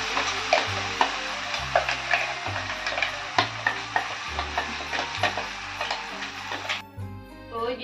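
Ground bhat soybeans are stirred into onions, chillies and spices in a pan. Close spoon scrapes and knocks come in a steady rhythm over a light sizzle, with a low hum underneath and no one speaking.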